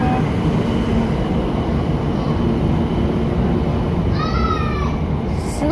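Shinkansen bullet train running at top speed, a loud continuous roar of rushing air and rails, with a brief rising whine near the end.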